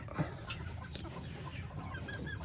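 Backyard chickens cluck quietly at morning feeding time, with scattered soft clucks and brief calls over a low background hum.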